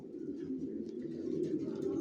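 Soft, low cooing of racer pigeons in a loft, a continuous murmuring drone of several birds heard close and fairly quiet.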